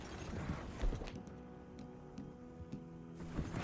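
Horse hooves clip-clop on the ground in Red Dead Redemption 2, a quiet, uneven run of thuds with faint creaks of tack at moderate distance.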